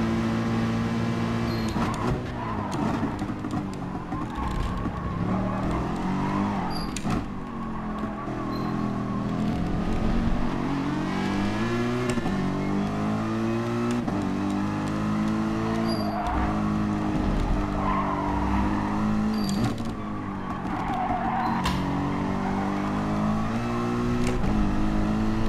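Race car engines rev and rise through the gears in Gran Turismo Sport on PS5, with repeated climbing whines, brief gear-change dips and occasional tire squeal, loud and continuous throughout.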